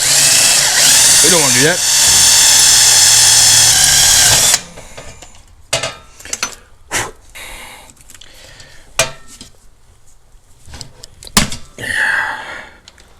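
A power drill bores through intercooler tubing backed by a wood block for quarter-inch rivets, a loud continuous whine for several seconds, then scattered clanks and knocks under someone speaking.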